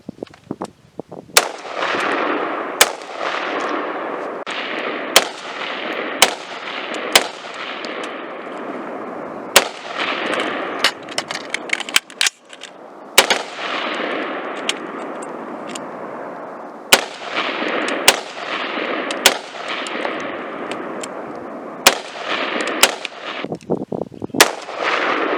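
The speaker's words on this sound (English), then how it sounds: "I'm going to shoot, and then I'm going to transition to a close target" Rifle gunshots on a shooting range while firing at targets through a magnified LPVO optic, a string of sharp, loud cracks at irregular intervals, some in quick pairs, with echoing reverberation between shots.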